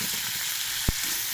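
Washed flattened rice poured into a hot pan crackles and sizzles in a steady, close frying hiss, broken by a single sharp knock of a utensil against the pan partway through.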